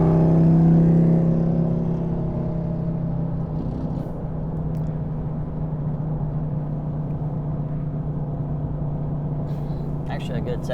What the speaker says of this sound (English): really loud motorcycle